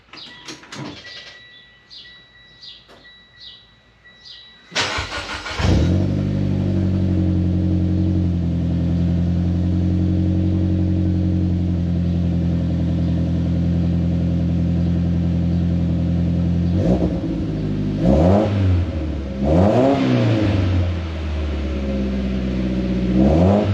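A Mitsubishi Ralliart is cranked and fires up, then settles into a steady, loud idle. Several sharp revs rise and fall near the end. Birds chirp faintly before the start.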